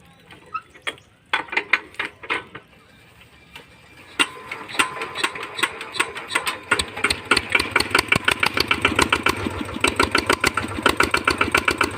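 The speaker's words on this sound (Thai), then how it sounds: "เร่งเครื่องก่อน" A small RT110 engine pulling water sputters with a few uneven pops, then revs up into a fast, steady, loud mechanical chugging that continues to the end.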